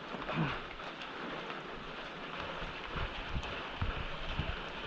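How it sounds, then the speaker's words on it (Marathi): Steady rain hisses in a dense, even wash with faint low rumbles underneath and no voices. "काय पाऊस आहे ना"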